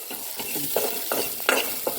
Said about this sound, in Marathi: मटर फ्राय करून घ्यायचं